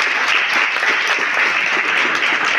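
Strong, sustained applause from an audience at a school farewell ceremony, many hands clapping in a thick, even roar with no voices on top.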